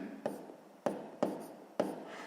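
Chalk or marker writing math on a board, four short separate strokes tapping and scraping at an uneven pace, close and fairly quiet with no talk.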